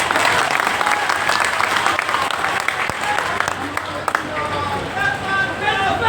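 Audience applause at a political rally in Muzaffarpur, a large crowd clapping steadily and loudly throughout, with voices and crowd noise mixed in.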